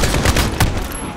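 Gunfire rattles through a Call of Duty: Modern Warfare firefight, a rapid run of loud, close shots in a dense volley lasting just over a second.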